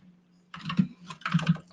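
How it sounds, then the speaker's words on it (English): Quick bursts of typing on a computer keyboard, close and crisp, with a few clustered key clicks and short pauses between runs, no voice over them. "I'm typing bad today."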